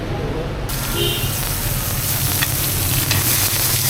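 Steady close sizzling of Vietnamese bánh căn batter frying in a hot pan, with a soft crackle throughout and faint voices in the background.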